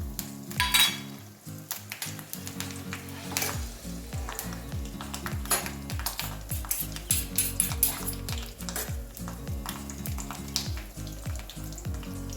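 Mustard seeds, cloves and cinnamon tempering in hot oil in a pan, a close crackling sizzle with frequent metal spoon scrapes and clinks against the pan, busy and continuous with no talking.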